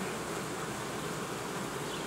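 Honey bees buzz around a hive, a dense continuous hum from many insects, close and steady with no voices.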